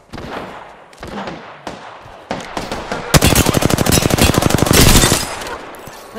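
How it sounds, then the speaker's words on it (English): Gunfire in the video game Apex Legends, loud and close: several separate single shots first, then a long rapid automatic burst with a steady rattling rhythm that ends abruptly, followed by a few more scattered shots. "Shots fired. And they're hitting me."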